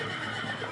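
A horse neighs, a drawn-out whinny heard briefly over dense, steady crowd and street noise at a flag day parade.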